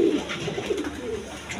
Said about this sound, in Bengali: দর্শকবৃন্দ এখানে এক পেয়ার ডেনিশ কবুতর আছে